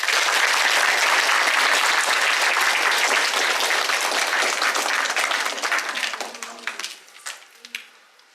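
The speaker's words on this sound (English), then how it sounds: "Should we give them a big clap?" A crowd claps for a group after a skipping session, loud continuous applause that holds for several seconds before thinning into a few scattered claps and dying away.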